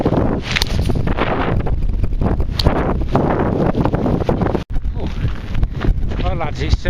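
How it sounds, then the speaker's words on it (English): Strong outdoor wind buffets the microphone in heavy, continuous gusts with rustling, during a New Year lunch under a tarp, someone talking over the roar. "That wind's getting up a bit now"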